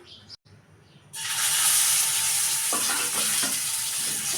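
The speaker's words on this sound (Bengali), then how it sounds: "তো চলো মাছগুলো আগে ভেজে নিই" Koi fish dropped into hot leftover oil in a wok bursts into a loud, sudden sizzle that holds as a steady, bright frying hiss.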